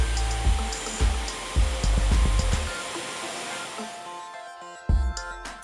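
A handheld hair dryer blows on styled hair for a runway hairstyle, whooshing loud and close with repeated bursts as it is pointed and moved, then fading before one last short burst.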